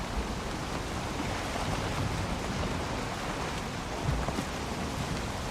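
Steady rainstorm in the game Valheim, a dense, even hiss of heavy rain with a low rumbling undertone and a brief swell near the end, continuous and fairly loud with no voices.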